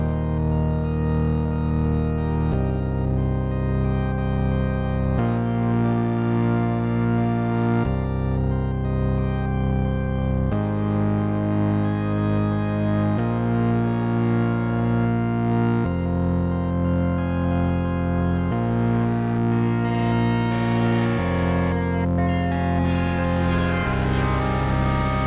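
Sustained synth-like tones shifting pitch every few seconds, processed through a sweeping filter that brightens and darkens the sound, steady and loud throughout.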